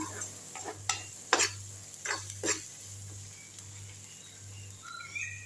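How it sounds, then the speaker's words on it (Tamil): Curry leaf and garlic pickle sautéing in oil in a small kadai, a low sizzle broken by a few distinct scraping strokes of a spoon, under a steady hum, no talking. "நடுவில் ஒரு கிண்டி விட்டுடலாம். நான் சின்ன கடாயில் தான் செய்கிறேன்."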